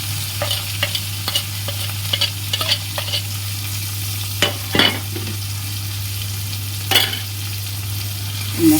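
Fish curry spices with tomato, green chili, salt and turmeric fry in a pan, with a steady sizzle and a low hum underneath and several sharp stirring scrapes rising above it. No one speaks.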